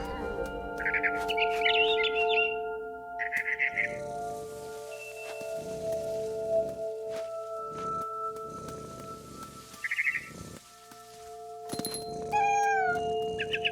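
Cat meows and small cries in the video game What Remains of Edith Finch, several short high calls scattered over a quiet backdrop of steady tones, rustling and bird chirps.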